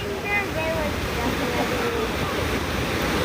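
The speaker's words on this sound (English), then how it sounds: "The waves are getting stronger." Ocean waves break on a San Diego shore as the tide comes in, a steady washing surf with wind rumble against the microphone, heard throughout the short stretch.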